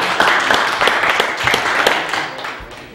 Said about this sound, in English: Give the Lord a hand clap and praise.